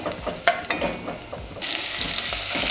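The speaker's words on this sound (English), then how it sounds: "I'm going to add the tomatoes" Tomatoes hitting a hot pan for sambar, a few clattering stirs followed by a sudden loud, steady sizzle that rises and holds to the end.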